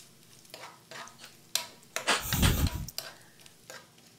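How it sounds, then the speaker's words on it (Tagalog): A spoon stirs food in a pan, scraping and clinking in uneven strokes over a faint sizzle, with one louder burst of scraping and frying noise in the middle. "haluin para di siya masunog"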